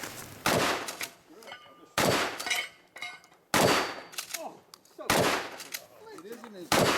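Four loud, sharp shotgun blasts at an action side match shooting competition, spaced roughly every one and a half seconds, each with a short ringing echo and metallic clatter, with faint voices in the gaps.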